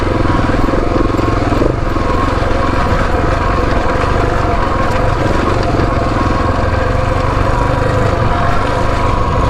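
KTM 690 Adventure motorcycle ridden over a rough, steep track, its single-cylinder engine droning loud and steady throughout with a constant buzzing rasp and slight load changes.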